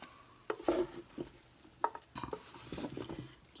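A spoon works through a sausage casserole in a pot, making a few short scraping, clattering stirs with quiet pauses between them, close and fairly soft, with no talking.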